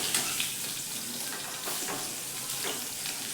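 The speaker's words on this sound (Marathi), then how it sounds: "बघा शिरा आपण थोडेसे चांगले परतून घेऊयात।" Ridge gourd peels sauté in a hot pan for chutney, giving a steady, soft sizzle and frying crackle with faint stirring scrapes throughout, close and fairly quiet, with no talking.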